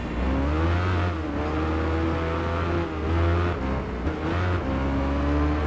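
Superbike engine in the Tourist Trophy racing game, a 1000cc machine on a road course, revving hard with steady harmonic whine that dips and climbs through downshifts, loud and continuous with no talk.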